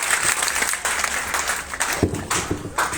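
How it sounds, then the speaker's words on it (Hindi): Audience applause after a speech at a student-focused event, a moderate burst of clapping with a few louder individual claps toward the end. "जोरदार तालियां एक बार बेराम जी के लिए"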